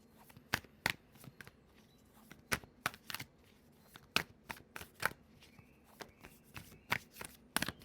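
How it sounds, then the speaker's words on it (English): A standard Rider-Waite tarot deck is shuffled by hand in a quiet room, giving repeated crisp riffling snaps in uneven bursts, close and fairly soft, with no talking. "Let's give this one more shuffle."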